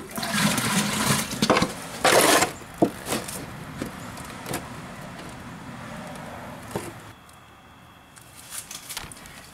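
Water dumped from a can into a bush machine rattles and gushes loudly at first in a few bursts, then settles into a softer, steady trickling and running sound.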